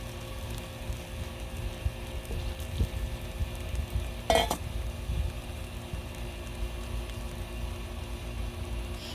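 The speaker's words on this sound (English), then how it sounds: "What do you say we add some sausage before it catches on fire?" Sausage fries on a Blackstone griddle outdoors with a steady, dense sizzle, and a brief scrape or clatter cuts through near the middle.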